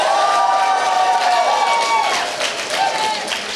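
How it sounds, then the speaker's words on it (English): An audience at a student animation awards ceremony cheers and applauds, a broad crowd roar with shouts and claps that stays loud and then eases slightly. "Please give Letterkenny IT a round of applause."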